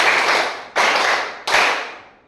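Students in a class clap in unison three times at an even pace, each crisp group clap decaying briefly in the room before the next.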